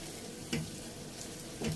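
Onions softening in a pan for a beef kheema biryani, a soft steady sizzle with two brief louder scrapes of a spoon stirring, quiet and close, with no talk.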